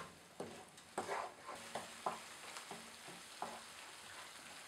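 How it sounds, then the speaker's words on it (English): Onion sauce stir frying in a hot pan for sweet and sour prawns, a steady sizzle broken by several distinct scraping stirs of the utensil against the pan, close and moderately loud, with no talking. "Once the pan is hot, add the onion sauce. Stir fry it for just 1 minute"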